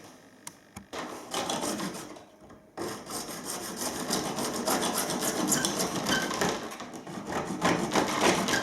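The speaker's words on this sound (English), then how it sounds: "So I'm going to reduce this by 2 millimetres and then cut the angle back at 45 degrees." A steady, coarse rasping of an abrasive tool grinding back a tile edge, continuous and fairly loud after a brief pause near the start.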